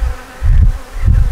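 Honey bees buzz inside a hive in a dense, steady drone that swells in two louder surges, close and continuous with no voices.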